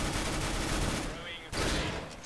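Dense burst of rapid gunfire from a first-person shooter match, loud and continuous with a brief dip near the end before firing resumes; some voice chatter may sit beneath the shots.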